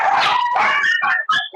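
A dog barks close and loud in a home during a yoga session, a quick run of high yipping barks with whimpering edges, ending in a sharp final yip.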